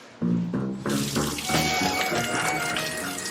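A shower starts with a sudden gush and then runs steadily, a bright continuous spray of water close by with a few faint bumps early on.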